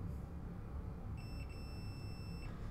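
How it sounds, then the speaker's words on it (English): A thin, steady electronic tone from a multimeter in continuity mode, testing an iPhone 6s board, sounds continuously for about a second and a half, fairly faint over a low background hum. "it's still going to beep if I put it in continuity mode"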